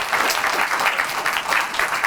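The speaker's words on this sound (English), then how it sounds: "Let's give every person in our police department a big round of applause this evening" Audience applauding police department members at an evening awards event, a steady, dense round of clapping that fills the whole short stretch at an even, moderately loud level.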